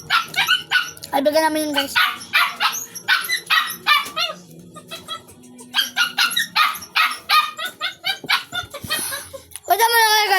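A dog barks and yips repeatedly, close and loud, in bursts mixed with whimpers while people talk over and between the barks.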